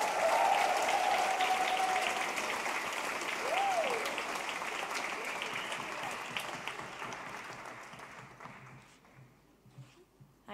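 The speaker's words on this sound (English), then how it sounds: "Will you please give a massive round of applause" Audience applause at a poetry slam final for a poet, a dense sustained wash of clapping that gradually fades out over about ten seconds, with a few faint whistles early on.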